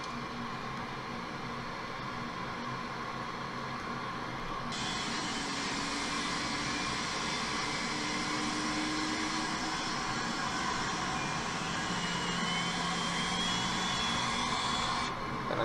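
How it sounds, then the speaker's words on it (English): A Boeing 747-400 jet engine spooling up during start in a flight simulator game, a steady broadband roar and whine that holds loud and even throughout. "we flip the control switch to run"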